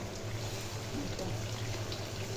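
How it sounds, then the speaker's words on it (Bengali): Hot water is poured into a steel pot of tehari, a close, steady trickling gush with a faint sizzle, briefly and at modest volume. "পানিটা দিয়ে দিচ্ছি।"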